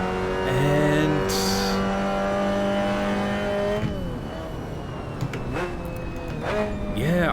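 Simulated car engine in the racing game Assetto Corsa, driven on public roads, drones and revs steadily with gear-change pitch drops and rises throughout, loud and close.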